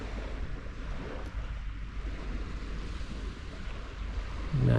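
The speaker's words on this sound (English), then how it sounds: "Here's the ocean though." Ocean surf rolling onto a beach with sea turtle nesting areas, heard as a steady broadband wash of waves mixed with wind noise, with no one talking.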